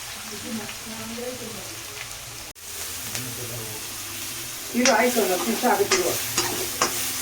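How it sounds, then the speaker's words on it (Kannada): Ginger, garlic and green chillies fry in oil with a steady close sizzle, louder and crackling near the end as the pan is stirred, while someone talks over it. "ಇವಾಗ ಶುಂಠಿ, ಬೆಳ್ಳುಳ್ಳಿ, ಹಸಿಮೆಣಸಿನ್ಕಾಯಿ ಹಾಕ್ಕೊಂಡು ಎಣ್ಣೆಲಿ ಫ್ರೈ ಮಾಡ್ತಾ ಇರೋದು"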